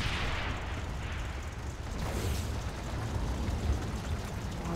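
Rumbling tank gunfire and booming impacts in the World War II tactics game Combat Mission Battle for Normandy, a dense, continuous roar of blasts with one sharper crack in the middle and no voices.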